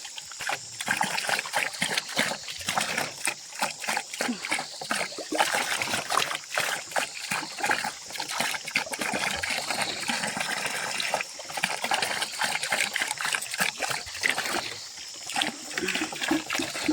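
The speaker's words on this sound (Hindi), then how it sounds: "कितना ठंडा रहता है ये पानी, क्योंकि यहीं ऊपर से आता है ये पानी।" Cold spring water running down from the hills in a mountain setting, a continuous close splashing and gurgling flow with no talk.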